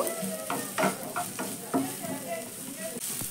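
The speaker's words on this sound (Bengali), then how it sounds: "এবার এইগুলোকে আমি প্রথমে একটু ভেজে নেব" Ginger, garlic, onion and chopped green chillies frying in a pan, with an even sizzle broken by several sharp stirring scrapes, close and fairly loud, with no talking.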